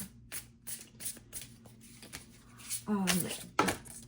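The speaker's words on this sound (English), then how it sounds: "We're going to cut the deck." Tarot cards being shuffled and the deck cut by hand, a series of crisp riffling snaps and taps in an irregular rhythm, close up, with a voice speaking briefly near the end.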